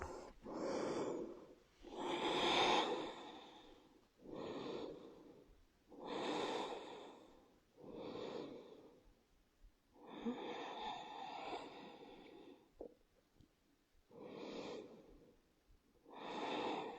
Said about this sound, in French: Prenez les grandes respirations